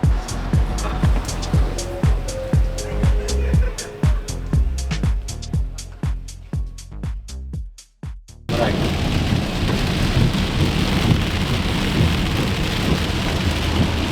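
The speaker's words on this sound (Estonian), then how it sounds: "Aga me teadsime, et vihma sajab" Heavy rain pours down with thunder. A rapid series of sharp cracks and rumbles comes first, then the sound gives way to a steady, dense roar of rain striking surfaces.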